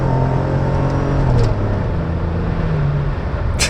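A Rover car's automatic gearbox shifts while driving; the steady engine drone pulls, then drops in pitch twice as gears change, heard from inside the car with road noise.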